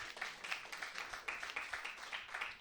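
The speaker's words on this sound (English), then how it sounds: "How about a round of applause for Dan Lamorte, everybody?" A comedy club audience in New York gives a round of applause for the host: dense, steady, rapid clapping from many hands, faint and somewhat distant, without a break.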